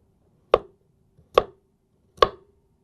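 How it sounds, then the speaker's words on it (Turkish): Three separate knife chops through potatoes on a cutting board for vegetable soup, sharp, close and evenly spaced with quiet gaps between, no talking. "Önce patatesleri doğrayayım."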